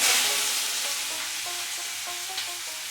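Chopped onions fry steadily in a pan for a Bengali-style home meal, giving a close, even sizzle with faint clinks of stirring and no talking.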